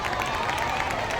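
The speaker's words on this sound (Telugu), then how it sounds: "మన మేనేజర్ సురేష్ సార్కి గట్టిగా చప్పట్లు" Audience applause at a school event, a dense, steady wash of many hands clapping together with crowd noise, sustained and fairly loud throughout.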